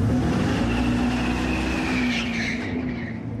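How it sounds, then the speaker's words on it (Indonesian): A Dodge Charger electric car with an artificial exhaust note roars loudly and steadily up close, with tire squeal and skidding rising toward the end. "Dan meski suara dan bau karet bannya nyata, tapi ciri khas suara knalpotnya adalah buatan."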